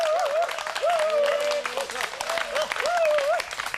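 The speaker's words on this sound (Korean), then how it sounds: "박수 쳐주세요." An audience applauds at a Korean traditional martial arts training session, a dense sustained patter of clapping under a louder voice speaking over it.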